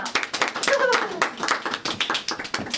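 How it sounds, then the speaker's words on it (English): Scattered clapping from a modest audience after a talk about becoming a published writer, uneven individual claps close by with some speech mixed in. "Please clap."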